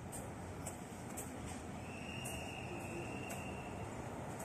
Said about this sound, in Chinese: 火车嘟嘟嘟来了